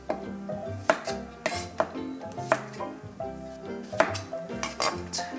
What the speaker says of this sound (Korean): 마늘은 반으로 썰어서 편 썰기 하겠습니다.